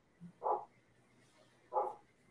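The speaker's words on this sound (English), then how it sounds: "My dog is making a lot of noise out there." A dog barks outdoors, two separate woofs roughly a second apart, moderately distant and alone with no talk over them.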